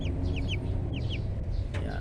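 Twenty-five-day-old chicks peeping and clucking nearby, several short bright chirps in quick pairs over a dense murmur of the flock, with a faint low rumble underneath.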